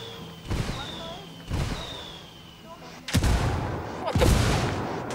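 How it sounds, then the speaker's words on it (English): In Ghost Recon Wildlands, four heavy artillery booms land one after another, each a deep blast with a rolling tail, the later two louder and closer, with faint whistles before impacts. "Call the rebels for some indirect fire."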